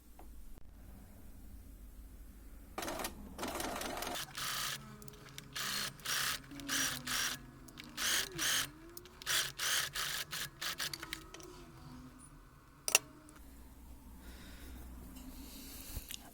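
Sewing machine stitching a wrist cuff in the seam groove, short bursts of quiet rapid needle clatter separated by pauses, close and faint against a soft background hiss.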